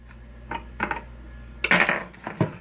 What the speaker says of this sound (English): we're going to take it and empty it into a pot